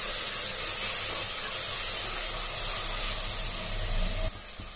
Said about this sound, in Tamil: இஞ்சி பூண்டு பேஸ்ட் பச்சை வாசனை போற அளவுக்கு நல்லா வதக்கி விட்டுக்கலாம்.